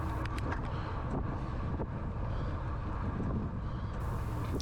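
Steady broadband wind roar buffets the microphone as a cyclist climbs a steeper stretch into a headwind during a Bonifacio time trial in Corsica, loud and continuous with no talk.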